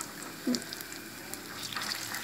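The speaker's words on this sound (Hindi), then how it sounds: "इस तरह करके आपने उसको फ्राई करना है ताकि वो नीचे से पक जाए।" Potato cutlets (aloo tikki) fry in a pan with a soft, steady sizzle and crackle, one brief louder bump partway through, quiet and close with no talking.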